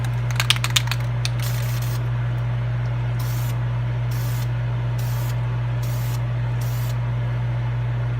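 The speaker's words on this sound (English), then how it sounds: "I'm going to use the trusty old Duplicolor primer. This is the black primer." Rattle clicks of a Duplicolor black primer can being shaken, followed by five separate short bursts of spray at steady intervals over a constant low hum, used for priming before a rust patina finish.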